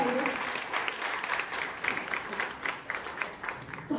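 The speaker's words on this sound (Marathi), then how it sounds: "खूप जोरदार टाळ्या झाल्या पाहिजे" Sustained audience applause fills a 25th wedding anniversary celebration, a dense steady wash of many hands clapping close and loud for the full stretch, with no voices over it.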